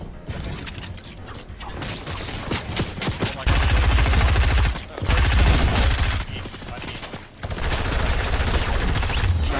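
Minigun firing in a video game, a loud, sustained buzzing stream of rapid shots that runs in long bursts, broken by a few short pauses before spinning back up.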